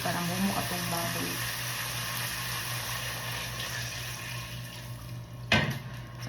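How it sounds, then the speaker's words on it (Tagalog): Pork simmering in a pan while water is poured in for a homemade Bam-i dish, producing a steady close frying sizzle and watery bubbling throughout, with a sharp clatter near the end. "Ang butangan tubig para mumo atong baboy"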